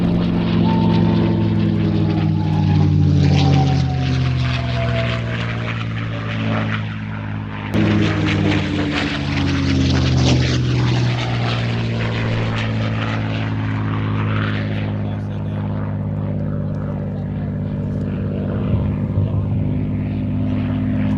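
An Allison-engined Mustang fighter flies past at an airshow, its piston engine droning loud and near with a steady propeller hum that swells, shifts pitch and slowly fades into the distance.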